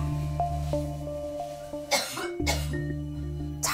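Persistent night-time coughing: two or three harsh, close coughs break out near the end after a quiet stretch over a constant low electrical hum.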